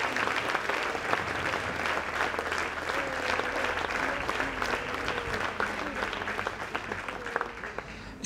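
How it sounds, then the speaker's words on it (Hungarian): A summer evening brass band concert crowd applauds after a trumpet solo, steady sustained clapping from a sizeable audience with faint background chatter, and a voice begins speaking at the very end. "egy nagy tapsot kérünk még neki is"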